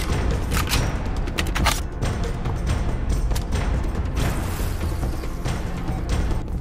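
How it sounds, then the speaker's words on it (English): Mines blowing up in the battle royale game Surviv.io, a rapid string of sharp booms and bursts packed together over steady, dense game noise. "It feels like they're exploding faster or damaging more"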